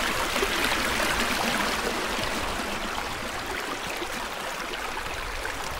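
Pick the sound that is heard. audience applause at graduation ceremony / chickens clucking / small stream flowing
small stream flowing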